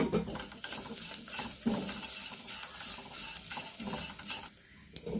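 Grated coconut with curry leaves fries in a pan for a chickpea curry, a steady sizzle broken by repeated scraping stirs of a spoon against the pan, close and moderately loud with no voices.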